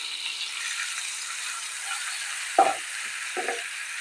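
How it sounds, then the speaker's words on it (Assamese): Ground onion, ginger and garlic paste fries in oil in a pan, a soft continuous sizzle with a couple of brief spatula scrapes near the end, close up and without talk. "এই মছলাখিনি মই ভালদৰে ভাজি ল'ম।"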